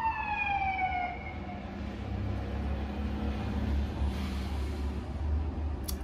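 A fire engine siren wails as it passes near a fire station a block away, its falling sweeps fading early over a low rumbling traffic drone that carries on to the end.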